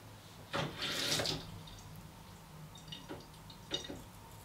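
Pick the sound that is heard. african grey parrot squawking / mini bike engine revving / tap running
tap running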